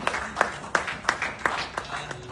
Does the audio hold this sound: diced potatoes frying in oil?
no